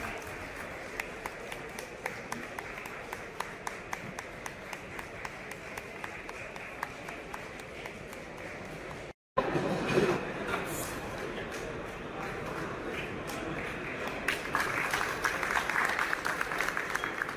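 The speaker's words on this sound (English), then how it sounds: "Give a huge round of applause" Audience applause at a National Veterinary Day award ceremony as a veterinarian is honoured: sustained clapping from a crowd, steady at first, breaking off briefly and resuming louder and denser.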